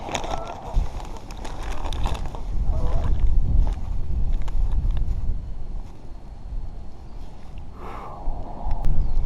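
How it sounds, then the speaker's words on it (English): Roughly 15 mph wind blows outdoors on a chilly afternoon by the water while bass fishing, producing a continuous rumbling buffet across the microphone with a few faint tones drifting through. "there's probably about a 15-mile-an-hour wind going"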